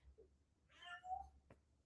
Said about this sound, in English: my cat's doing her thing again